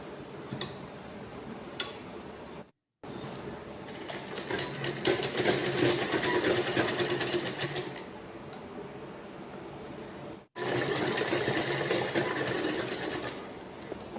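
A sewing machine runs in a steady rapid ticking rhythm, stitching the seam of a girl's colour-neck school uniform dress. It stops briefly twice, then resumes at close range.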